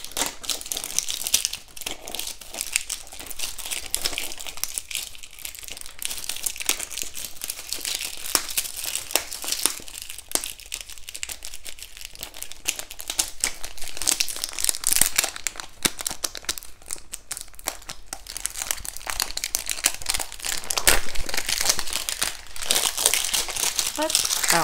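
Cardboard packaging of a small candy machine being opened, with steady close crinkling, tearing and crushing of box and wrapping throughout, under occasional talk.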